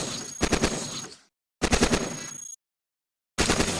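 A heavy assault rifle in the robot game Cogmind fires three loud, close bursts of rapid shots, each about a second long, separated by dead silence.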